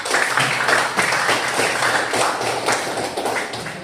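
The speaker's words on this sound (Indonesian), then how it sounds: "Tepuk tangan dulu untuk kita semua." A room full of people applauds, steady clapping that continues for several seconds before easing slightly.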